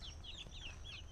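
Chickens clucking in short, repeated chirpy bursts, fairly faint over a steady low background rumble.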